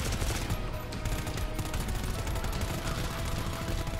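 Sustained, dense machine gun fire in the co-op shooter GTFO, loud and continuous with rapid overlapping shots and no clear pauses.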